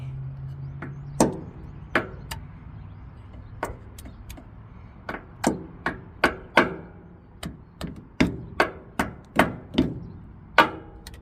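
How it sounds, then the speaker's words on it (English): Sharp metallic hammer taps on a Kenworth W900 truck's front shock absorber, about twenty, irregular at first then quicker and steadier, close and fairly loud with quiet gaps between. "Get your hammer. You want to tap it a little bit."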